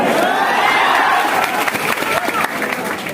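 A seminar audience in a packed hall claps and cheers loudly, a dense roar of applause and shouting voices that swells and then eases slightly, close and full.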